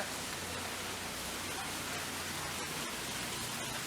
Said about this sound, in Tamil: நல்லா மழை கொட்டுன்னு கொட்டிட்டு இருக்கு.